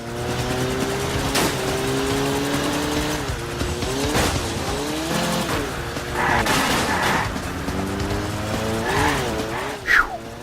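A car driving in the PlayStation 3 video game Wheelman, engine droning steadily with rising and falling revs, repeated tire squeals and skids, and a sharp loud hit near the end.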